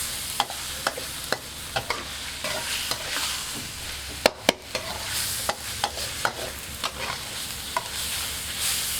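Pork stir-fried in a pan with fresh chili and garlic, a steady close sizzle broken by repeated sharp scrapes and clanks of the spatula stirring, with no talking.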